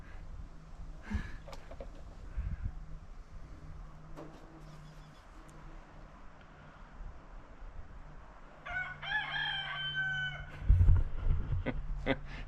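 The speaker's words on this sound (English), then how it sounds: "I think our rooster's having something to say about us working on the Volvo out here." A farmyard rooster crows partway through, a stacked harmonic call near the end set against outdoor background noise where people are working on a Volvo XC70.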